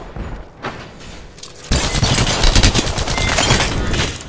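Heavy, sustained gunfire in Apex Legends erupts after a quieter opening of scattered shots, becoming a dense, loud volley of rapid bursts with little talk.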